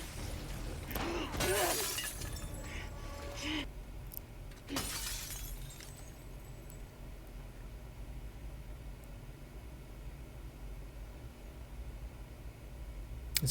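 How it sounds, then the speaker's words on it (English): Glass shatters twice in The Last of Us Part 2 video game, a loud crash with scattering shards followed a few seconds later by a second sharp break, then a long stretch of quiet ambient hiss. "As you see, I keep breaking glass"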